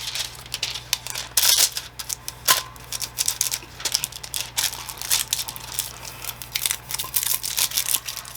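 Thin metal foil crinkles and crackles as a scrap is pressed across a tumbler, a run of sharp, close, irregular bursts of rustling with no talking.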